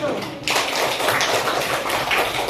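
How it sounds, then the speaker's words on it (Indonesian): A classroom group claps for group 1 after a presentation. The applause is a dense, continuous burst that begins suddenly and holds at a fairly loud level. "Tepuk tangan untuk kelompok 1."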